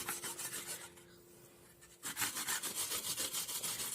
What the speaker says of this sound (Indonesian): setelah itu kita parut kencur hingga halus